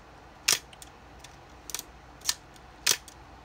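Shutter of a later Nikon F Photomic film camera with a metal, not cloth, shutter, firing four times: sharp, crisp clicks spaced about a second apart over a quiet background.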